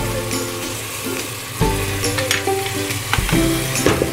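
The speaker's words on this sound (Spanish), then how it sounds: "Tienen que estar blanquito por toda la cebolla, y a continuación echamos el ajo." Minced garlic hits a pan of frying onion and yellow chili (ají amarillo), a steady loud sizzle with a surge as it lands, plus clinks of stirring.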